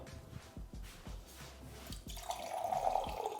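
Water is poured into a glass holding about 5 grams of basil seeds. Soft drips and splashes lead into a brighter, steady pour toward the end, close up and fairly quiet, with no talking.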